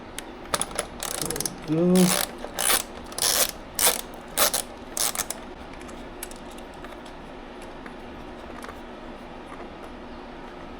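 A small 8mm bolt being unscrewed on a Yamaha MT10 motorcycle with a ratchet, a string of sharp clicking pawl strokes for a few seconds, then quiet workshop background; someone speaks a word.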